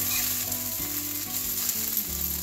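Sabudana mixture stirred into lightly fried boiled potatoes in a pan, a loud continuous sizzle with faint scraping underneath, close up and without talk.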